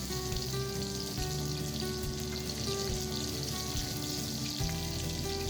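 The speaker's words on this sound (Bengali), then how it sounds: "এর মধ্যে দিয়ে দিলাম কিছুটা পরিমাণ রিফাইন্ড অয়েল, তার সাথে দিয়ে দিচ্ছি গোটা জিরে ফোড়ন, গোটা সর্ষে, কাঁচা লঙ্কা কুচি," Cumin seeds, whole mustard seeds and chopped green chili frying in refined oil, a steady close crackling sizzle that holds at an even level throughout, with no voices.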